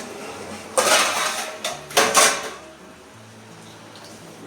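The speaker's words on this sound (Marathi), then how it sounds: "आता ह्याच्यामध्ये ना आता मी थोडंसं आधी झाकून देते" A metal lid is set onto a cooking pot while chicken is being made, giving a few short clattering knocks spread over a few seconds, close by, with no talking.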